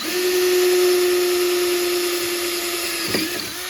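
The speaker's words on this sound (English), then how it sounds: "got a couple right here to drill" A power drill boring rivet holes through a snowmobile track on a 2003 Yamaha Viper 700, a single steady high whine held for a few seconds, then a brief bite and stop, close by.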